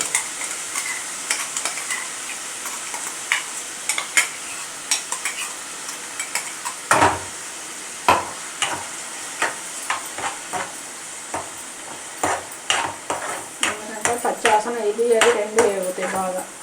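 Ginger and green chili paste fries and is stirred in a pan for chicken curry, with repeated sharp scraping and clinking of a spoon against the pan over a steady sizzle.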